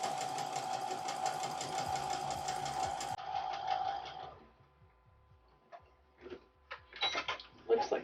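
A sewing machine stitches steadily and loudly for about four seconds during quilting, then stops, and a few clicks and small handling sounds follow.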